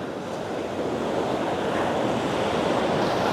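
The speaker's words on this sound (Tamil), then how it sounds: "அலைகள சத்தம், காற்று" Ocean waves wash onto a beach under gusty wind, a constant loud roar of surf and rushing air with wind buffeting the microphone and no voices.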